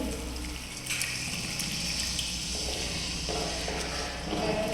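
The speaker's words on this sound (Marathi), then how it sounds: "गरम पाणी टाकायचं." Hot water is poured into a pan of cashew (kaju) curry, making a steady, close splashing rush that runs unbroken for a few seconds with no talking.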